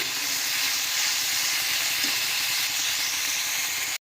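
Prawns frying in a pan for a Bengali mixed-stem chorchori, a steady broadband sizzle and hiss that stays loud and even throughout, with no voices.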